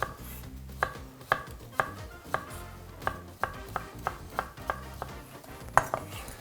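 Steady knife chopping of rhubarb into cubes on a cutting board, a dozen sharp evenly spaced thuds with faint kitchen clatter between, close and without talk.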